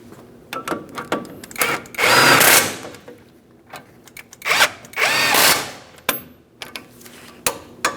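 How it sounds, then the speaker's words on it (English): A power tool snugs up the front brake caliper mounting bolts on a Ford Transit 250 in short loud bursts of whirring and ratcheting, separated by quieter clicks and pauses, close by with no talking. "Let's snug them up and torque them to 203 foot-pounds."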